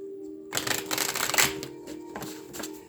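A deck of playing cards is shuffled close up, a quick riffle of papery flutters followed by softer shuffling snaps.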